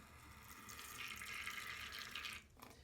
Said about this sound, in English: I'm going to take a wash bottle, and this wash bottle has distilled water. And I'm just going to